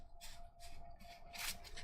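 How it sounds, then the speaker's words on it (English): Board game cards for a literary-themed game are shuffled in several quick riffling bursts, the last one loudest, close up with no talking. "Now we got to shuffle these back in as well."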